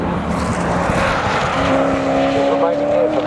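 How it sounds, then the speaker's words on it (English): A BMW race car at Donington Park sweeps across the start-finish line at race pace, its loud engine note rising in pitch as it passes close by, with commentary running underneath. "Through over the start finish line goes our race leader, BMW"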